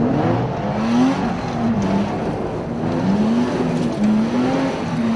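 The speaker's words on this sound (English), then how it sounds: "All right, let me try four-wheel drive donuts around here." Toyota Tacoma truck doing four-wheel drive donuts off-road, its engine droning steadily and rising and falling in pitch as it circles, close by and loud throughout.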